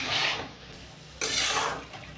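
A pot lid lifted off a pan of lemon pepper chicken cooking in spiced oil, giving a short bright clatter followed by a burst of sizzling, close by with no talk.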